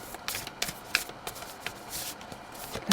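Tarot cards are shuffled by hand in a steady run of crisp riffling and flicking bursts, close and fairly quiet, with no voice over it.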